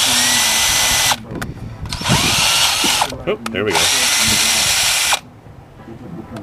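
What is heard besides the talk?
cordless lithium-ion drill running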